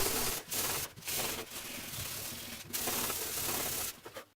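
A wooden nightlamp frame is sanded with steady, rasping back-and-forth strokes, close and fairly quiet, with brief breaks between passes.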